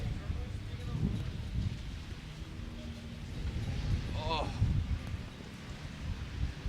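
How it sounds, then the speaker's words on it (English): Wind and rain batter the commentary tower at Mondello Park race track during an Irish drift competition, a steady roaring wash of gusts and spatter running throughout, with people talking over it. "as the wind and the rain batter us here in the tower and batter Mondello Park, Fionn Roach finds something special"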